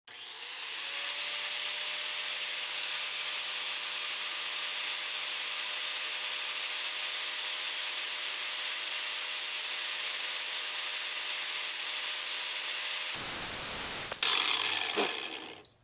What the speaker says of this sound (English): take my ring and just touch it to the inside edge of this grinding disc